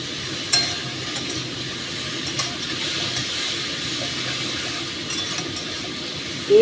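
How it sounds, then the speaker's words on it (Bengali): Spices and turmeric sautéed for a hilsa fish curry, a steady close frying hiss broken by a few faint stirring scrapes, with no voices. "বেশি হলুদ কষবে হ্যাঁ মশলার সাথে কষাচ্ছি"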